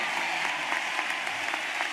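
Audience applause at a graduation ceremony welcoming actress Alfre Woodard as speaker, a steady, dense clapping that fills the space evenly and holds at the same level throughout, with no voices over it.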